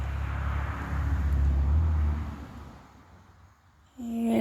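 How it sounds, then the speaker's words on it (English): Road traffic goes by an early-morning garden, with a vehicle's low rumble swelling past and fading before another loud approach begins. "Sorry, traffic."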